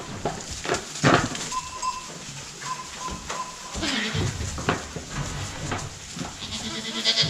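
Newborn goat kid, a single 5.5 kg female, bleats repeatedly at close range on a farm, thin cries rising over a busy background with occasional handling noise.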